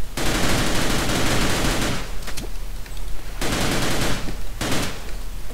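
Tommy gun fired in the game They Hunger, heard as two long, loud, rapid automatic bursts with a short pause between them, close and harsh.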